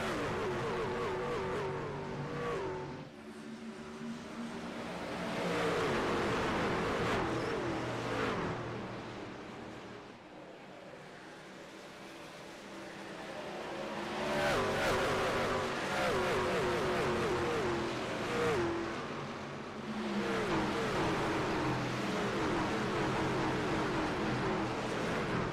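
A pack of race trucks roars around Darlington in a racing video game, engines droning continuously and revving, swelling and fading as they pass through the 25 seconds.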